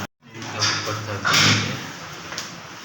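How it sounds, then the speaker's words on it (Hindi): A rooftop door is pushed open with a bump and a scraping slide, followed by a rush of outdoor air and a second faint knock, fairly close and loud. "अभी मैं दरवाज़ा खोलता हूँ"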